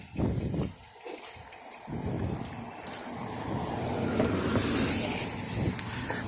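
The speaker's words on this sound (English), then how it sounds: "let me let that car go by" A car passing along a road outdoors, its broad engine and tyre rumble building steadily and staying loud through the pass, with wind buffeting the microphone.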